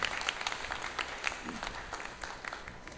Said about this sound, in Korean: 우리 박수로 환영하고 감사의 박수 드리도록 하겠습니다